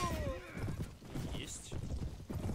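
A horse in the video game Mount & Blade: Warband whinnies with a falling cry over clip-clopping hooves and battle noise, while someone talks over the game.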